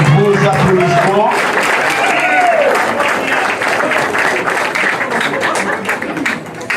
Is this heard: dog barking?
no